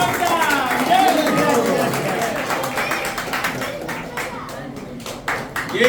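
An audience at a housing society's Independence Day function claps, a thick, fairly loud burst that tapers off into scattered individual claps toward the end, mixed with a voice talking over it.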